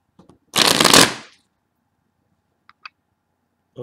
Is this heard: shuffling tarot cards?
yes